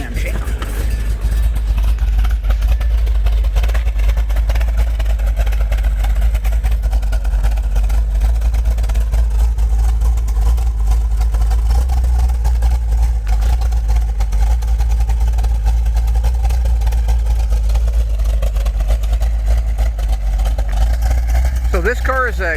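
A 1970 'Cuda tribute with a 440 six-pack and a lumpy cam idles steadily, a deep continuous rumble heard up close that stays even throughout.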